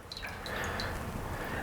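Water rinses salt off cured pork bellies, a steady wet splashing and dripping at close range, continuous throughout with small droplet ticks on top.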